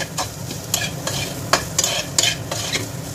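Salted chicken filling for patties stirred in a pan, close scraping strokes of a spoon repeating about every half second over a steady low sizzle, with no talk.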